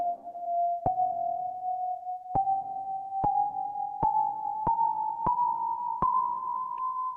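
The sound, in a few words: microtonal CET 97 scale tones played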